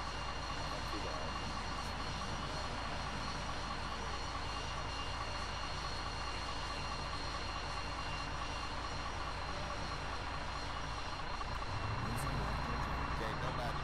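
A fighter jet engine roars steadily in a video game, a dense, loud, constant whine and rush that holds for the whole stretch and swells slightly near the end.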